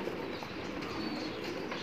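Soft pigeon cooing in a loft against a steady murmur of background noise, with faint chirps mixed in; no talking.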